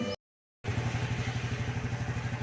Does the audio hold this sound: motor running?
yes